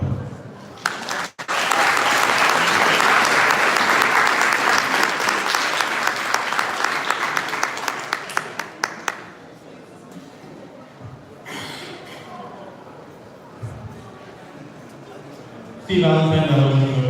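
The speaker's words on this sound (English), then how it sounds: "We're going to please have a round of applause for Val and Arya." Guests at a wedding reception applaud loudly for about nine seconds after a toast to the couple, the clapping then fading into quieter room noise with brief voices and a burst of sound near the end.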